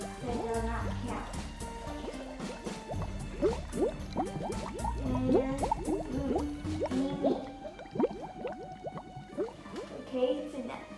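Liquid is poured while making cherry jelly for kids, with a continuous trickling, splashing fill and bubbly gurgles running for several seconds, close up and fairly quiet.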